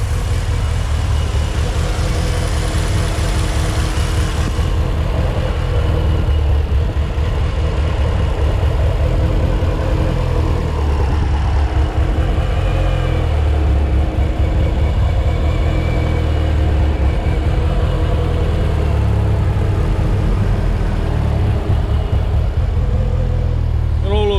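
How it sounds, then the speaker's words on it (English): A Mitsubishi Evo engine idles steadily after a crankshaft position sensor replacement, a close, even mid-pitched rumble that runs unbroken throughout. "So we got a bit of a normal idle now."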